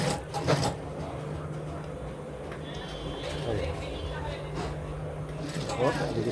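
A sewing machine stitches a shirt collar during tailoring work, running as a steady mechanical hum and whir through most of the stretch, moderately close, with a brief knock near the start.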